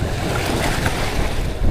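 Rough sea waves and wind rush around a moving boat, a steady loud wash of water with buffeting gusts.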